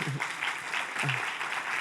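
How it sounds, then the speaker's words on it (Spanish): A church congregation at a Sunday service at Iglesia Viña Los Ángeles claps in a soft, steady patter, with a voice briefly heard over it twice. "Dame un aplauso a Jesús."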